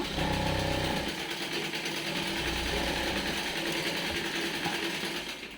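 A sewing machine runs steadily, stitching fabric during tailoring of a large-size garment, with a continuous close mechanical whir and rapid needle chatter throughout, no voices.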